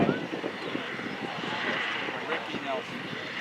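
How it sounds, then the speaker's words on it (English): A WW2-era airplane landing on a runway gives a steady engine drone and rushing roar, heard under continuous talk from a commentator at an airshow parade. "helps slow the airplane down before he simply flies that nose wheel down to the runway"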